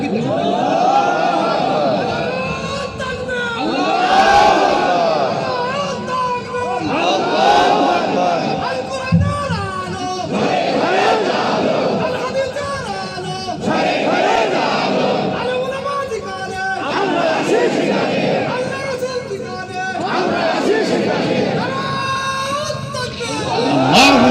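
A large crowd at an outdoor Islamic religious gathering in Gabtoli, Bogura chants the takbir in unison, with loud collective shouts rising and falling in repeated waves every few seconds and a leader's voice amid the echoing throng.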